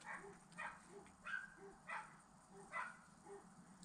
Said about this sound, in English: I don't know if you can hear the dogs in the background or not.